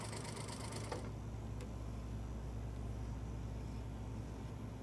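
Sewing machine stitching a garment collar, a steady fine mechanical whir that runs continuously and evenly throughout at low volume, with no talking.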